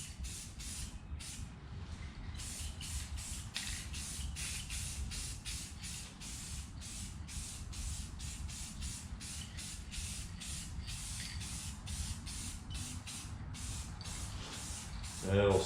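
Spray bursts of 2X clear coat onto a drop cloth mask come in a rapid series of short, close hissing blasts, repeating steadily with brief gaps throughout.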